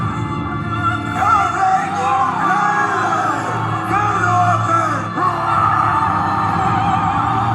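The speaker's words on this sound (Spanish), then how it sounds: "El Valhalla se abre y el grito vikingo se escucha." A crowd of Vikings roars a battle cry, many voices yelling and whooping together in a dense, sustained wall of shouting with a few sharp bangs mixed in.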